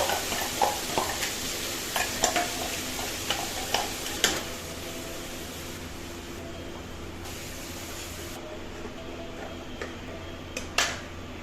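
Cumin and masala roasting in a pan while making karela gives a low sizzle under scattered sharp clicks and scraping stirs, close by, with a voice talking intermittently over it.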